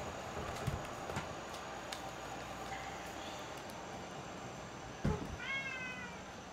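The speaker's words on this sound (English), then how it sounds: "There's my cat getting by my microphone" A house cat close to a microphone gives a soft, brief meow near the end, preceded by faint scattered bumps and rustles, all quiet against a low steady background hum.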